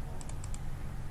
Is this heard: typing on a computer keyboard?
yes